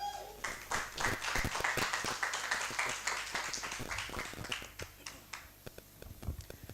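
An audience at a law business conference claps in sustained applause, dense and fairly distant, thinning toward the end.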